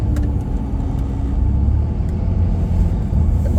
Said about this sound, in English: There's the ups guy.